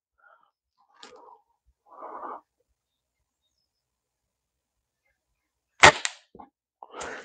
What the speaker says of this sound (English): Now I'm in quite a lot of pain, so I'm going to shoot this quickly.